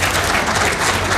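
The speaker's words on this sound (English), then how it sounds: "let's clap for this particular panel." A conference audience applauds a panel, dense steady clapping filling the room at a loud, even level with no voices over it.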